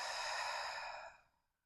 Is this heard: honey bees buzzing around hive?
no